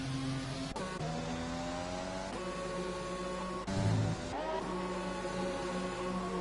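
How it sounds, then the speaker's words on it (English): Formula One race cars in the F1 2020 game hum steadily as they enter the pit lane, engine tones shifting in pitch at intervals, fairly quiet and continuous with no talk over them. "Quite a few cars coming into the pit lane."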